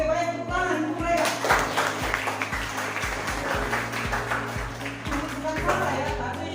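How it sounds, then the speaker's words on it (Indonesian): A classroom group of students claps for classmates, a loose, ragged patter of hands over a steady hum of background music, moderately close and lasting the full stretch. "tepuk tangan untuk mereka"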